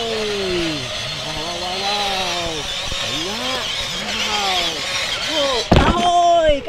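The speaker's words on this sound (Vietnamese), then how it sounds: "Điều khiển mình khởi động lên nó kêu đó các bạn." A remote-controlled toy construction truck starts up with a whining electric motor that rises and falls in repeated sweeps, ending in a louder burst, with a voice faintly present beneath.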